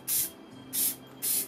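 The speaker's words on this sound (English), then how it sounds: "you can spray some sort of sealant on it." Clear sealant coat sprayed from an aerosol can onto a painted craft piece, three short, even bursts of close, bright hiss with quiet gaps between them.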